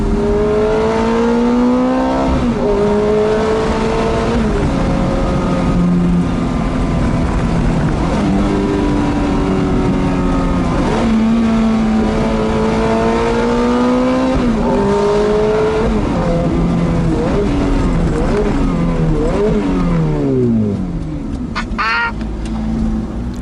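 A Ferrari F430 being driven at a supercar day, its engine loud and close, the pitch climbing and falling through repeated revs and gear changes, with no talking over it.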